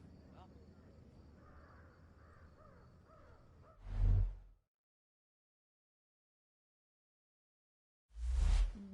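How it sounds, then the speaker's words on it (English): Crows in the Thief video game give two loud, harsh caws several seconds apart, the first following quiet murmuring voices and the second alone after silence. "Hear that, friends? It's the crows."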